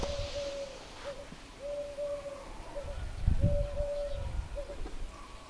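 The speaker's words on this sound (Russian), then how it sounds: "Горлица." A turtle dove coos outdoors on a frosty morning near a backyard chicken yard, giving three drawn-out, fairly distant coos over low rumbling background noise.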